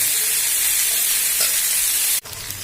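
Onions and sliced bitter gourd fry in a pan for karela pyaaz bhujiya, giving a steady bright sizzle with light stirring scrapes, close and continuous until the hiss briefly cuts out near the end.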